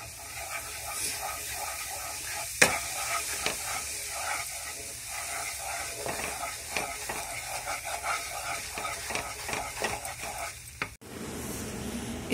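Gram flour (besan) frying in melted ghee, a steady close sizzle with repeated scrapes and taps of a spoon stirring the pan, one sharper clink near the start and a brief drop in sound near the end.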